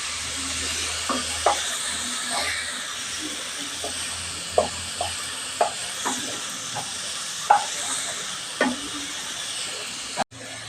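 Onion with turmeric sautés quietly in a pan with a low steady sizzle and hiss, punctuated by light regular taps and scrapes of a spoon against the pan.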